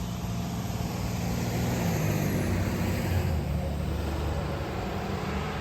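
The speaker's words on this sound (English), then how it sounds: "I got a truck going by" A truck passing by a side yard garden, a steady broad rumble of engine and road noise that swells and fades gently over several seconds, fairly close and loud with no talk.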